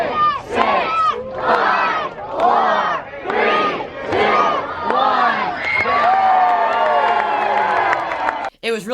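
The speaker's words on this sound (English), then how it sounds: "the cheering at the end of the countdown was just surreal to be a part of" A loud crowd at a Spirit Halloween flagship store grand opening erupts in repeated waves of cheering and shouting after a countdown, many voices close and overlapping, sustained for several seconds.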